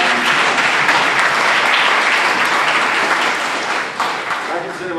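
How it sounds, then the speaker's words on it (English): Sustained audience applause fills a hall during a mayoral debate, a dense, loud wash of clapping that holds steady before thinning slightly toward the end. "let's give Glenn a round of applause"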